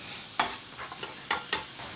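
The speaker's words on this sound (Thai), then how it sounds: "ผัดรวนให้หมูสุกดีเลยครับ" Minced pork sizzles in a hot pan while a utensil scrapes and stirs in several sharp, irregular strokes, close up and without talk.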